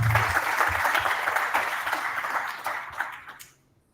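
Team members at a weekly wins and demos meeting get a round of clapping from the audience, steady and full at first, then thinning and dying away to silence near the end.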